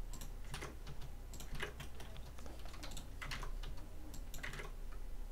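Keys clatter on a computer keyboard as an Alt+A shortcut is pressed, a steady run of close, crisp clicks and taps with no voices.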